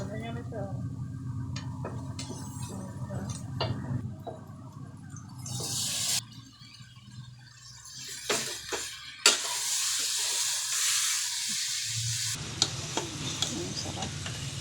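Vegetables with carrot sauté in a hot pan, a steady close sizzle with bursts of stirring and scraping, swelling into louder hissing as liquid hits the oil; a voice talks intermittently over the cooking.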